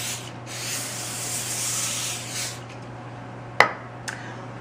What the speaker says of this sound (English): I'm also going to spray my cookie sheet with a little olive oil cooking spray